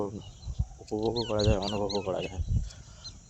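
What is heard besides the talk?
birds calling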